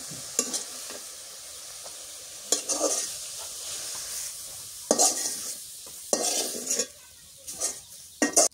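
Chopped cabbage being stirred with salt in a frying pan: a soft sizzle underneath repeated scraping bursts of a utensil against the pan, coming in uneven strokes every second or two.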